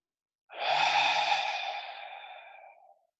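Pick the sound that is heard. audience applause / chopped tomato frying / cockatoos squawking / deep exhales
deep exhales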